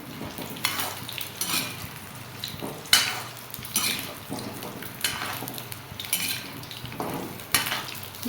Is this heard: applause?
no